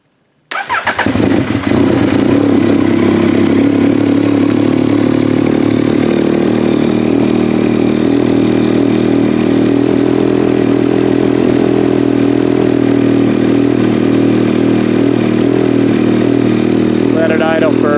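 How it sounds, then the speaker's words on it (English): A 2021 Yamaha MT-09 motorcycle fires up close by, then settles into a loud, steady, low rumbling idle that holds for the rest of the stretch. "Now you're supposed to go ahead and start it up and let it idle."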